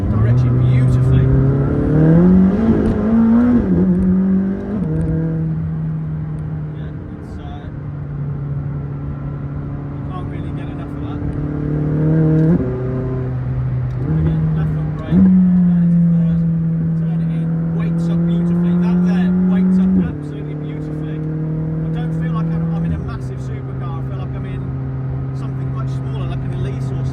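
A McLaren 600LT sports car engine revs and pulls hard on a public road, rising in pitch through several gears with sharp shifts and a loud, sustained drone inside the cabin.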